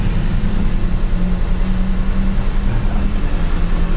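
A Daihatsu Xenia engine idles steadily with a low, even hum and slight pulsing, holding a constant drone throughout with no talking.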